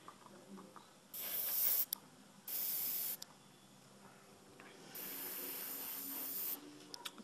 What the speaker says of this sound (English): It's spraying really nice, so smooth and consistent.